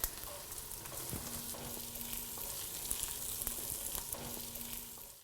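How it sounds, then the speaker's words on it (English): Chorizo, onion and squid fry in a pot for a chickpea cocido, giving a steady, close sizzle with soft crackles and a faint low hum that runs unbroken for the whole stretch. "The chorizo is browning and also appears to have wilted down."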